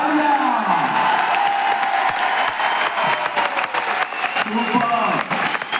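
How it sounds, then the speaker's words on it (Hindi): An audience at a stage event in Tyagaraj Stadium, Delhi, claps loudly and continuously in dense applause, with voices mixed into the crowd noise. "तालियां"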